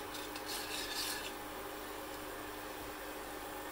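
Soft, continuous scraping and rubbing, like a spoon stirring against the bottom of a pot, steady and fairly quiet.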